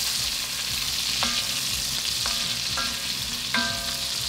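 Beef sears in a pot for beef bourguignon with a steady, loud sizzle throughout, broken by a few sharp metallic clinks of a utensil against the pot.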